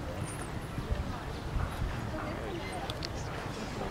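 Horse hooves clip-clop in Red Dead Redemption 2 gameplay, a steady patter of footfalls running continuously under talk and game ambience.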